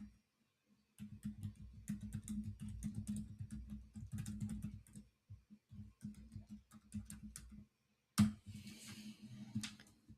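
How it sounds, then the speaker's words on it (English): Typing on a computer keyboard, a quiet, close patter of fast key clicks in several bursts separated by short pauses, with a sharper tap near the end. "Let me type that in there."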